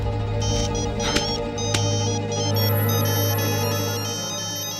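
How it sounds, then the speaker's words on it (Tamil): A mobile phone ringtone plays steadily through a Tamil TV serial scene, a repeating electronic tone sustained over a low background hum. "என்ன ராகவன் செல் அடிச்சுக்கிட்டே இருக்கு எடுக்க மாட்டேங்கிறீங்க"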